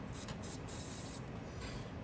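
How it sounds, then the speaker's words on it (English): WD-40 lubricant sprayed onto the coolant feed and return line fittings of a BMW M5 turbocharger during a coolant leak repair: faint, airy hissing bursts, a short puff and then a longer spray, with no voices. "I'm just gonna spray a little bit WD-40, just right there, just like there, just like there."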